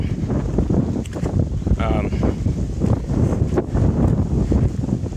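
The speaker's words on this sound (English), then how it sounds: "now it's getting windy down here" Steady rumbling wind on the Hayduke Trail near Needles, Utah, buffets the microphone after a storm, with brief rustles and a short tonal squeak partway through.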